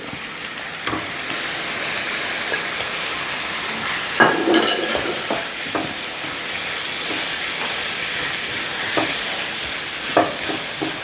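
Chopped tomatoes are stirred into hot oil with cumin for shakshuka, a loud steady sizzle and hiss filling the stretch, with occasional scrapes and clinks of a spoon against the pan.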